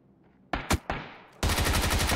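Gunfire in PUBG crackles in a few sharp bursts, then breaks into sustained rapid automatic fire that grows loud and dense toward the end.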